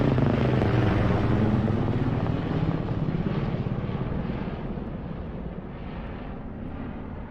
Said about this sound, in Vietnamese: Ở trên bầu trời có một chiếc máy bay trực thăng đang bay qua.